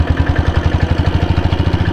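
A 1998 diesel Royal Enfield Bullet motorcycle engine runs close up with a loud, low, even thumping beat of rapid regular pulses, steady throughout the short stretch with no voices.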